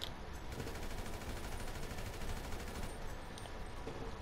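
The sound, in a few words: gunfire in the video game GTA 5 Online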